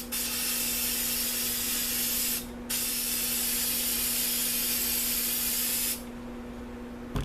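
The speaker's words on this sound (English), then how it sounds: "We're going to spray black." An aerosol can sprays black paint in a long, loud continuous hiss, broken by one short pause, then cuts off; a faint steady hum lingers underneath and nobody talks.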